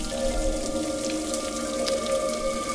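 A tap runs in the horror adventure game Scratches. The water is a faint trickle with soft drips beneath steady droning ambient tones, and no one speaks.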